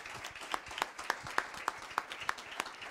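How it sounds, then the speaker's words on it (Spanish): Faint applause for invited guests at a talk on urban segregation, with a few distinct claps cutting through at a regular, roughly steady beat above a soft wash of clapping from a distant audience. "Le damos un aplauso a nuestros invitados"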